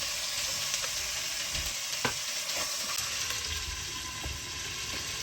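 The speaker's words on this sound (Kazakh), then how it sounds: "қызып тұрған майға етімізді салып қуырамыз" Meat sizzles and fries steadily in hot oil inside a cauldron, a continuous close crackle with small pops and occasional stirring knocks.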